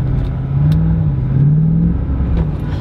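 A Corvette accelerates on a road test after a repair, its engine a loud, close, steady drone that rises slightly in pitch and then holds.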